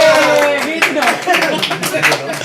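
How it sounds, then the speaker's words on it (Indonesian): A group claps together in a brief burst of steady applause, close and fairly loud, with voices chattering over it. "tapi Penontonnya suruh tepuk tangan dulu"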